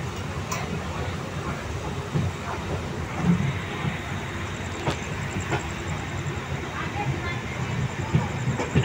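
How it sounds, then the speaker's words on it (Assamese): A train pulling away and running at night gives a continuous rumbling roar with scattered clanks and knocks, heard from on board at moderate loudness. "আৰু ট্ৰেইন এতিয়া গৈ আছে, এতিয়া এৰিছে ট্ৰেইনখন।"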